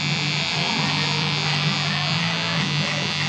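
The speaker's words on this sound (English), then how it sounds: "So we're going to use the corner of the clipper." An electric hair clipper trims a beard with a steady, close, continuous buzz. Its motor hum holds even throughout, with no pauses.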